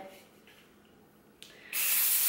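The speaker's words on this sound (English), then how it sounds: "I just start spraying this kind of all through my hair" Quiet room tone, then a sharp click and a sustained loud aerosol hiss of dry-finish texture spray onto hair starting near the end, close up.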